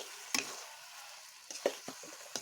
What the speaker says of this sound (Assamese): কচুখিনি ঢালি লৰাই লৈছোঁ অলপ।